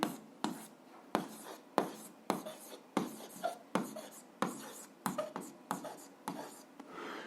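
A pen writes out the proof of a seventh-grade algebra exercise, with close, quiet scratching strokes in short bursts separated by brief pauses, forming an uneven rhythmic pattern.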